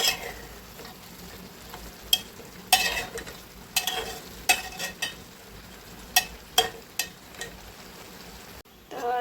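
Rice for matar pulao sautéed in a pan: a low sizzle under a series of sharp, irregular spoon scrapes and clacks against the pan, close and moderately loud.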